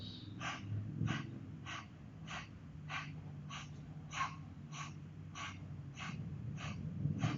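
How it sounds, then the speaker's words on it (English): A woman does rhythmic percussive breaths during a Pilates exercise, a steady series of about a dozen short, sharp exhales through the nose and mouth, evenly spaced and close, over a soft background hum. "try a percussive breath like this"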